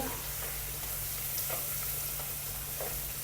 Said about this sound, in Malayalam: ഒരു രണ്ട് തണ്ട് കറിവേപ്പില ഊരിയിട്ട് കൊടുത്ത്